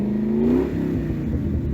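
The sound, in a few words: Ford Mustang GT engine revving with Borla Atak exhaust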